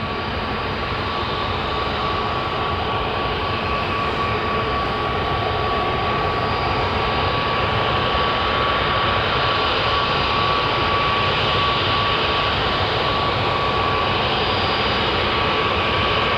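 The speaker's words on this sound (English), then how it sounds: "So I've got a Dreamliner also heading for the runway, a Qatar Airways." A Qatar Airways Boeing Dreamliner taxis toward the runway at Manchester Airport, its jet engines giving a continuous, loud, broad whine with a thin steady tone running through it and no voices.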